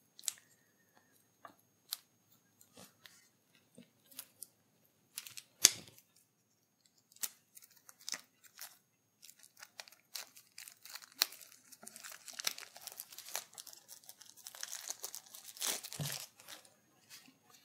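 A board game card deck has its packaging opened by hand: faint, close clicks, snips and crinkling come sparsely at first, then a denser run of tearing and rustling plastic wrap. No one talks.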